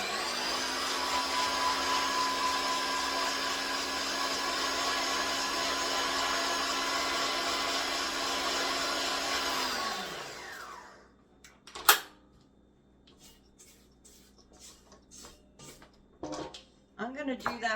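Electric stand mixer beating gluten-free chocolate chip cookie dough, a loud steady whir running for about ten seconds before winding down, followed by quieter clinks and kitchen handling.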